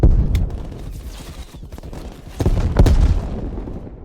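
Gunfire from a weapon in an online first-person shooter match, heard as a few loud, sharp bursts with strong recoil-heavy booms, spaced apart over steady game background noise.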